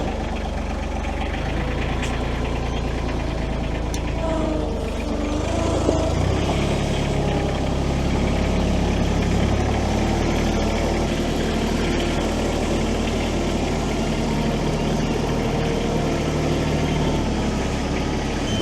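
Diesel engine of a used auction tractor idling steadily nearby, a low continuous rumble with an even chug that barely changes over the whole stretch.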